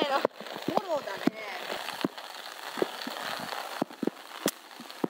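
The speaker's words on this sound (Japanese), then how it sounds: "雨の音で聞こえない" Rain falling on a golf course, a steady hiss of drops pattering on umbrellas and ground throughout, with sharper taps scattered through it and people talking over it.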